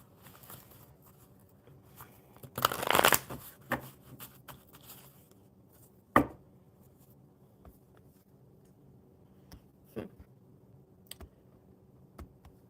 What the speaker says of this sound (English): I will shuffle these